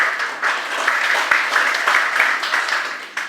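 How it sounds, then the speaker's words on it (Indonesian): An audience applauding at a national assembly meeting, with sustained dense clapping held at a steady loud level throughout. "tepuk tangan beliau"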